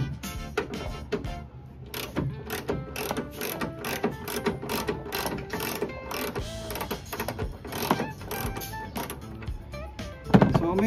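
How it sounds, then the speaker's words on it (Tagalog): Close, steady ratcheting from a 13mm socket wrench working a bolt on a Mitsubishi Triton tailgate. Rapid mechanical clicks run in uneven bursts for about ten seconds, with a sharper knock at the very end. "So gamitin na lang natin ang socket wrench."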